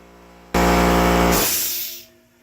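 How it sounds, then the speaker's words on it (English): Foam generator making fine foam for aircrete bursts into a loud, steady rushing hiss that lasts about a second and a half, then fades back to a low hum. "The foam generator is working."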